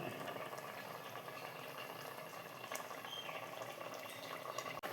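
A pan of chili fish curry made with threadfin bream bubbles on a low boil, soft continuous popping and simmering heard up close, fairly quiet and steady.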